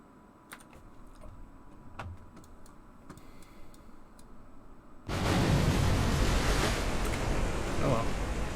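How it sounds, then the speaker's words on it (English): Objects splash into water in Kerbal Space Program, a video game: soft ticking clicks first, then a sudden loud, overdriven roar of impact noise that holds steady to the end. "Sometimes Kerbal overdrives the sound when stuff hits the water."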